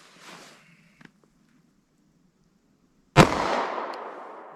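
.45 ACP Federal Hydra-Shok round fired from a short-barrel handgun, a single sharp, loud report after a few quiet seconds with faint shuffling, followed by a decaying outdoor echo.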